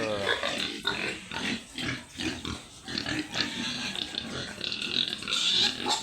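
Pigs on a farm grunt and oink repeatedly in a busy, overlapping chorus at close range, with people talking in between and some clattering in the pen.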